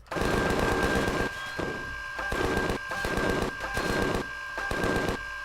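Enemy gunfire in the sci-fi survival game Empyrion: repeated bursts of rapid automatic fire, loud and close, broken by short pauses, with a steady high tone running underneath.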